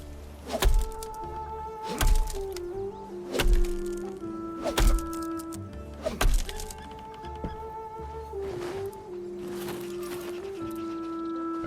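Copper tools chop an oak tree in the RuneScape Dragonwilds video game: five sharp wooden thunks land at a steady rhythm over a looping melodic game music bed, the strikes close and loud.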